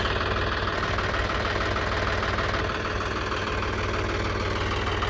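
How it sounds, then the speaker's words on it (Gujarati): A John Deere 5210 tractor engine idles nearby with a steady, rumbling low throb and rapid even knocking pulses, unchanging throughout and with no voices. "આ છે આપણું ટ્રેક્ટર જોન ડીયરનું 5210"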